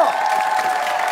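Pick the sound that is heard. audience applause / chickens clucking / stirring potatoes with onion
audience applause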